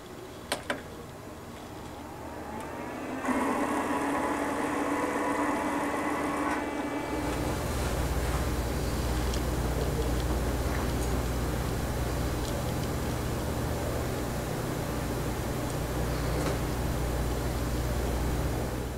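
A vinyl cutter feeding a loaded roll of material, with a couple of faint clicks, a mid-pitched motor whir for a few seconds, then a lower steady mechanical rumble continuing without speech.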